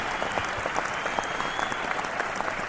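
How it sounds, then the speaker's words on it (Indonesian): A stand-up comedy audience applauds with dense, steady clapping that stays loud and continuous for close to three seconds. "Sekali lagi berikan tepuk tangan yang paling meriah buat Bribka Maston Jauhari."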